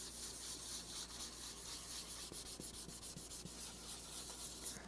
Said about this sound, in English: I'll just level sand that area right around the sound hole that I sprayed